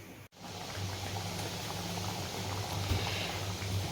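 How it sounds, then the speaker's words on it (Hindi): Kachori frying in hot oil, a steady low bubbling and hiss that holds evenly throughout, fairly faint and alone. "इसमें तेल डाल के और मैं अब शुरू करती हूँ कचौरी तलना"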